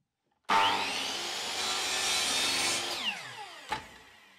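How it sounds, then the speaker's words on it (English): A chop saw slices through a piece of Valchromat, coloured MDF board, with one loud, sustained cut of about two and a half seconds that winds down, followed by a short knock, all close up with no voices. "I'll cut a bit on the chop saw"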